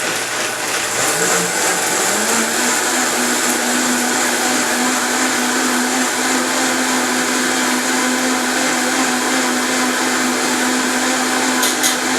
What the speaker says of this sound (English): We're going to blend until smooth.